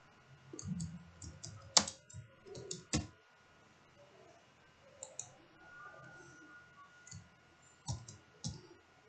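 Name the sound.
typing HTML code on a computer keyboard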